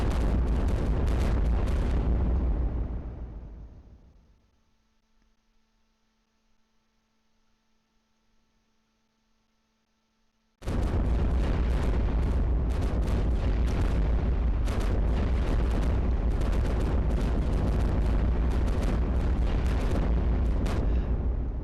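Cannon fire and explosions from the iBomber Defense game, set in North East Europe with level 3 cannons and X weapon rounds hitting tanks: a dense, loud barrage of booms, then a few seconds of low hum, then a sudden return to continuous heavy blasts.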